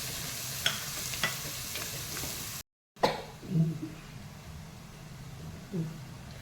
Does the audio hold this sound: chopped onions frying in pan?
yes